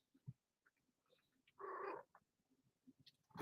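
A pet cat shifts about close by, with soft rustling and a short burst of purring or chirping in the middle of an otherwise quiet room.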